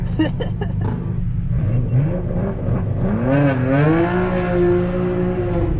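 A Nissan Skyline R32 GTR launches at a street racing event, its engine revving and then climbing steadily in pitch as it accelerates, loud and fairly close, with crowd noise around it.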